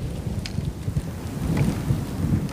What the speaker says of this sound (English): But then there's rain again and a thunderstorm.